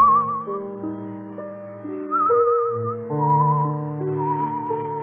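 A man whistles a melodic tune alone, clear and close, with wavering sustained notes that step up and down in short phrases.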